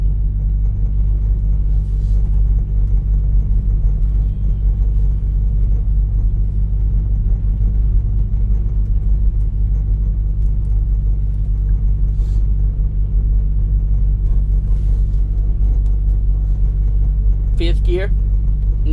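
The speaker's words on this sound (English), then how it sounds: "This right here is just putting a strain on your truck, your motor, everything, and it'll pull this hill here." A Subaru Sambar mini truck's engine labors up a hill at low speed, a steady, loud low rumble droning continuously throughout with little change in pitch.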